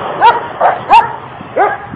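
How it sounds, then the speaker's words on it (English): German Shepherd barking outdoors on a neighborhood street in Santiago, Chile: four short, loud yelping barks close by, spaced unevenly over a quiet background. "Yep, another German Shepherd."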